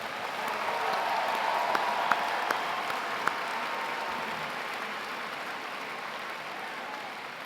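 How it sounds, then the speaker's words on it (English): Steady applause from a large audience at a Science Olympiad national tournament opening, a continuous wash of clapping that holds for several seconds at a moderate, even level. "let's give them another big round of applause"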